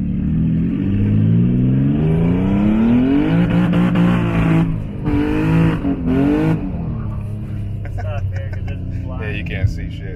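A homemade twin-turbo Nissan G37 engine accelerating, its rising revving tone climbing loudly then easing off and dropping toward idle, with someone talking over the engine throughout.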